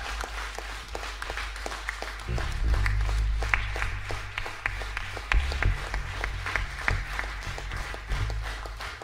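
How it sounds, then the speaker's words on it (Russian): Concert audience applause rolls on steadily for nine seconds, a moderately loud, dense patter of many hands clapping, with a deeper background rumble joining partway through. "Аплодисменты!"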